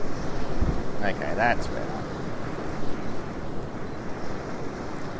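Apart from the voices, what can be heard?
ocean waves at Currumbin Beach with wind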